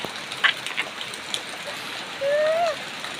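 Rain falls steadily in the background during a Thai almsgiving scene, with a soft continuous wash and a few brief brighter drips and splashes. Near the end a thin whistle-like tone rises over it.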